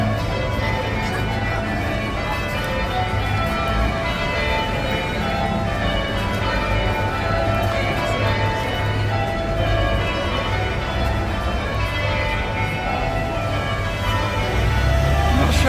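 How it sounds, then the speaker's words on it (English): Bells ring continuously at a distance near Greenwich market, their tones overlapping into a steady sustained peal over a constant background hum. "Can you hear the bells?"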